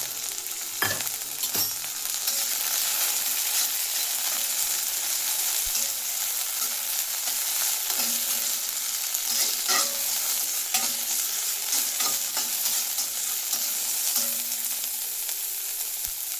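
Oil sizzles steadily in a hot pan while cooking chicken sambar, with occasional stirring scrapes and clinks breaking through the continuous frying hiss.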